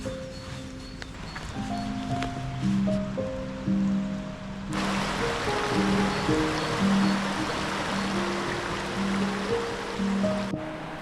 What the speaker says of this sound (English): Here is your first view of Red Creek as it heads on through the rhododendrons, pines, and spruce